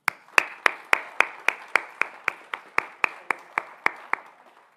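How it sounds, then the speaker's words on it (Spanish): About fifteen slow, evenly spaced claps ring out close up at a law faculty conference session, each one crisp and distinct, gradually softening toward the end. "Recibimos al doctor Curbelo con un fuerte aplauso"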